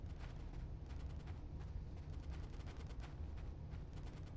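Dense, rapid gunfire from Grand Theft Auto San Andreas rattles on continuously in quick, overlapping volleys, fairly quiet and without voices.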